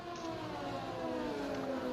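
Race car engines in the F1 2020 video game at the Spanish GP whine in a sustained, rising multi-engine drone, with cars running close together in a tight pack.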